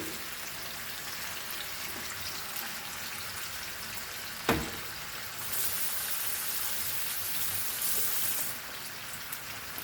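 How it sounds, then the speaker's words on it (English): Mandeli anchovies sizzling in a pan, a steady bright crackle of hot oil throughout, with one sharp pop near the middle and a brief surge of louder spitting afterward. "Let this fry."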